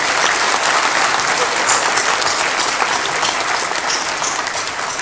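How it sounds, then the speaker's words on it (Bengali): Applause from an audience at a ceremony honoring a women's football team, dense sustained clapping filling the space evenly and loudly from start to finish. "সবাই তাদের জন্য একটু জোরে হাততালি দিই সবার জন্য।"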